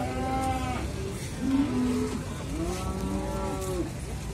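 Cattle at a morning livestock market in Muntilan, Magelang, including Limousin and Simmental beef stock, moo in long, drawn-out calls that overlap and follow one another steadily, fairly loud and close over a busy market background.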